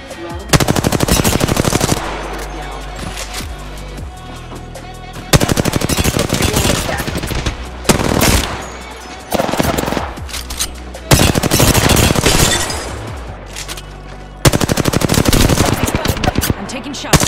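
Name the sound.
gunfire in the video game Apex Legends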